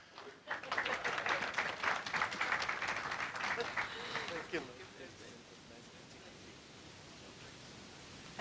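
Seminar audience applauding the panelists: a steady wash of clapping from a room of people, moderately loud, that tapers off into quiet room noise after about five seconds.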